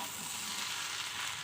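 Food fries in a small wok with a dense, even sizzle that stays close and constant throughout, with no talk.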